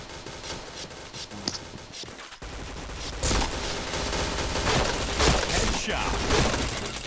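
Gunfire in the shooter game Point Blank: rapid bursts of automatic weapon fire, loud and close, with a brief lull before a sustained stretch of rattling shots.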